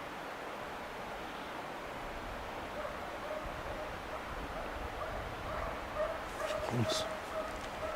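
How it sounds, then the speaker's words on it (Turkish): Dogs bark and yip during a wild boar hunt, distant and faint at first, growing into a cluster of sharper yelps near the end over outdoor background noise. "Köpekler sanki onu yeni fark etti ha."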